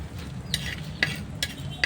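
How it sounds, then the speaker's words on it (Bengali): Dried red chillies stirred in a little oil in a clay frying pan, with four sharp scraping strokes of a spatula spaced about every half second over a faint, quiet background. "তো শুকনো মরিচগুলো একটু নেড়ে চেড়ে ভালো করে ভেজে নেব।"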